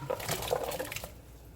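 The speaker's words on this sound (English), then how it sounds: "I'm just going to add it to my boiling water." Crawfish and shrimp being dropped into a pot of boiling water make a short, close splashing and sloshing burst that fades quickly into quiet.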